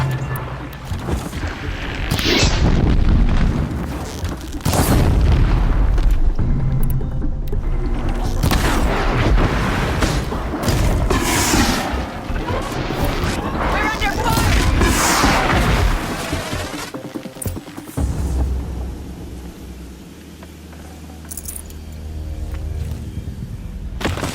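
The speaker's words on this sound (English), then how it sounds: "We're under fire!" Gunfire and explosions in the video game Horizon Zero Dawn, a dense loud stretch of booms, blasts and impacts layered with game music and effects, fading to quieter ambience near the end.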